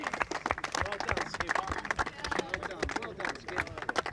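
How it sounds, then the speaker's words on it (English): An audience claps and cheers at The Open Invitational at Royal Liverpool Golf Club. Steady, close applause with dense patter runs throughout, under a person talking over it. "Give them a big clap, because it's pretty intimidating"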